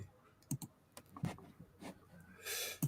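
Rapid computer mouse clicking, a scatter of sharp, dry clicks in irregular bursts, fairly close and moderately loud, with no one talking over them.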